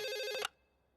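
A telephone rings over a speakerphone in a Hindi-dubbed South Indian film, a single electronic ring burst lasting about half a second before cutting off to near silence.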